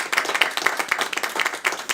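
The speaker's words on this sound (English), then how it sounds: "give yourself a round of applause" A small group claps in a brisk, uneven patter of applause, close by and lasting a couple of seconds, with no talking.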